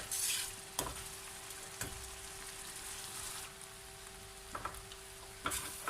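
Chana dal frying dhaba-style in a pan, a soft steady sizzle with a faint hum and a few sharp stirring scrapes at intervals.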